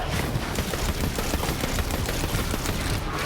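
Smart-bullet gunfire in the video game Borderlands 3 comes as a continuous, dense rattle of rapid shots, loud and unbroken across the whole stretch.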